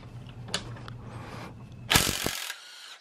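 A socket ratchet works loose an axle nut on a Sur Ron Light Bee electric dirt bike, giving a few close clicking pawl ticks followed by a louder burst of rasping ratchet turns before falling quiet.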